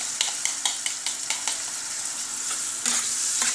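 Onion, garlic and tomato frying in a pan for a shrimp paella, a constant hiss broken by regular scraping strokes of a utensil being stirred.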